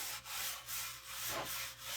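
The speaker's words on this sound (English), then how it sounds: "I'm just kind of doing a good amount of wax because this is a really rough" Rhythmic rubbing of wax onto a rough, sanded wooden sign, back-and-forth strokes about four times, each a soft scraping swell with brief pauses between.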